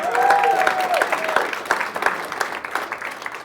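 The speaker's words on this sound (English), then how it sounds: "Another round of applause." A crowd at an accelerator demo day applauds steadily for a few seconds, dense clapping that stays loud and gradually thins, with a faint voice briefly audible at the start.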